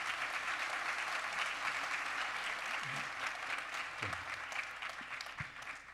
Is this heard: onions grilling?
no